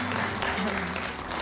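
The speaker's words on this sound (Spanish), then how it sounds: "Que ya nos recibe de pie aplaudiendo." A studio audience at an afternoon television show applauding, a dense burst of clapping with a voice speaking over it.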